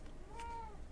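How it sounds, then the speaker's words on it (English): A pet cat named Mary lets out a single faint meow somewhere in the room, brief and soft over a low background hum. "It's my cat. And I heard her behind me the whole time."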